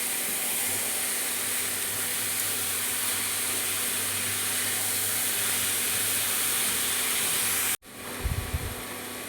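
Steady, loud sizzling hiss of grated papaya being stirred in a hot pan with cumin seeds, continuous for several seconds before abruptly dropping off, followed by a few brief scraping stirs.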